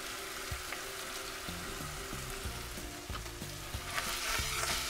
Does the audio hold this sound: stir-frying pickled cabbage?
yes